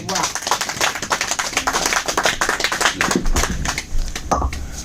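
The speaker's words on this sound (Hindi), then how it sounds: "तालियां हो जाए इनके लिए" An audience at a product testimonial event in Ahmedabad applauds people invited onto the stage, a dense patter of claps running steadily under a man's speech.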